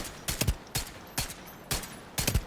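Gunfire in The Division 2, loud close bursts of automatic shots in about five short volleys with brief gaps between them.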